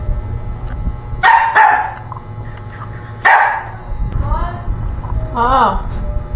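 A dog barks begging for food at a family meal, a few sharp barks followed by whiny yips, close by under ongoing conversation.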